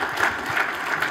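An audience at an awards ceremony breaks into brief, busy applause, a quick burst of many hands clapping at once without speech.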